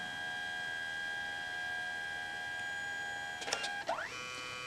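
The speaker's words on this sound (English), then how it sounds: "Next it will run the yellow." CMYK dye-sublimation photo printer running its yellow pass: a constant high motor whine and hum, then a cluster of quick mechanical clicks and a rising motor sweep near the end.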